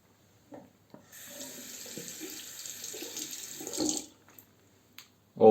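Water running from a tap into a sink while a Muhle R41 safety razor is rinsed, a soft steady splash of a few seconds with small clinks, quiet and close, no talking.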